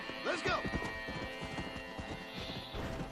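A stallion in the video game Red Dead Redemption, with rhythmic clip-clop hoofbeats close by and a whinny near the start, as someone speaks over the game sound.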